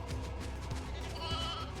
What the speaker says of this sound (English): Hey, little sheep, don't run away.